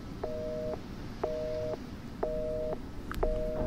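Telephone busy signal inside the video game Resident Evil 7, four evenly spaced beeping tones, each about half a second with equal gaps, steady and clear over a low background hum with no talk.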